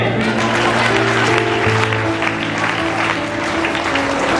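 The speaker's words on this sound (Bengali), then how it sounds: "জোরে করতালি দে।" An audience at a Bengali sermon during a spiritual family camp claps loudly and continuously, with music or sustained tones beneath the dense applause.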